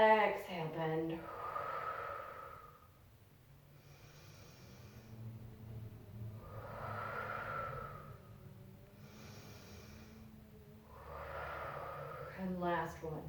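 Heavy breathing during a yoga bootcamp triceps exercise, three loud breathy exhales roughly four seconds apart, each swelling and fading, with quiet gaps between them, close to the microphone.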